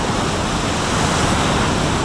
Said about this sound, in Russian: Я не знаю, волны 3 метра